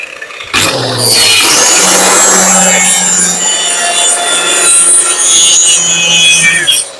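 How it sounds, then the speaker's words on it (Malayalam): Hand saw cutting through a scrap piece of wood for a woodworking joint, a steady rasping stroke that runs continuously and loudly for several seconds, close to the listener with no talking. "ഇനി നമുക്ക് ഇത് രണ്ടും കട്ട് ചെയ്തെടുക്കണം."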